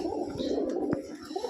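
A single collected pigeon coos softly and continuously while being handled and shown, close but faint, with a brief click partway through.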